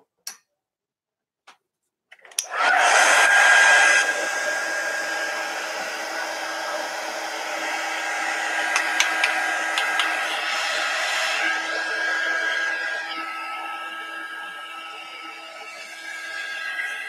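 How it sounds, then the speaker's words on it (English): A heat gun blows steadily to dry freshly mixed green and blue watercolor paint on a crackle project, starting abruptly after a couple of brief clicks and running as a loud, constant whooshing roar with faint ticks throughout. "I'm going to turn the heat gun on and dry that."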